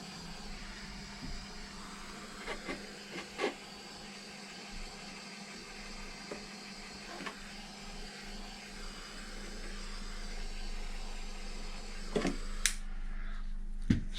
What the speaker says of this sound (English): Should grab my heat gun. We're just going to heat this up a little bit.